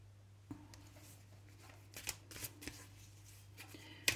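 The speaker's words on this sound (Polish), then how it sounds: "Dlatego ja nie lubię na wizji tasować" A deck of tarot cards is shuffled by hand, giving soft, quiet riffles and slides with a few sharper flicks toward the end. A low steady hum sits under it indoors.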